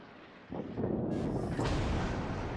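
Naval guns on a Tier 3 UK cruiser in World of Warships fire with a sudden deep boom, then a second heavy blast follows and rumbles on, loud and close.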